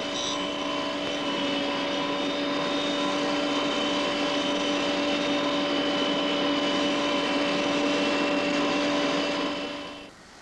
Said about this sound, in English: When it comes to sharpening lathe tools, it's usually possible to use a relatively simple grinding machine.